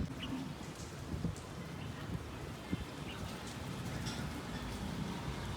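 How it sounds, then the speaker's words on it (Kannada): Steady rain falls outdoors in a broad continuous hiss with scattered drop patters, fairly quiet and even throughout, no voices. "ನಮ್ಮ ಕಡೆ ಮಳೆ ಬರತ್ತದ"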